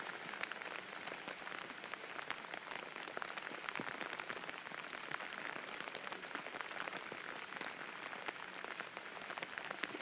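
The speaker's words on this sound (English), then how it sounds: "It's raining a lot" Heavy rain pours down outdoors on firework night, a constant dense patter of drops hitting surfaces with scattered sharper splashes throughout.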